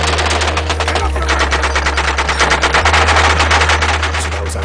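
Sustained machine gun fire poured from a rooftop in a city combat zone, a dense, loud unbroken stream of rapid shots lasting several seconds with no pause.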